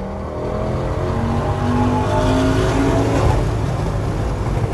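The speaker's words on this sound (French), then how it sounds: "On accélère un peu dans le virage si tu veux." Audi RS6 with a 1000 hp V10 accelerating in sport mode through a bend, a loud, close engine roar with rising harmonic tones as the revs climb, heard from inside the car with no talking.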